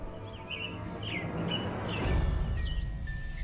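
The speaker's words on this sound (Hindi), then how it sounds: "बाहर से चिड़ियों की चहचहाने की आवाज आ रही थी।" Small birds chirp and tweet outdoors in quick, rising little calls scattered over a steady low background hum, fairly close and moderately loud.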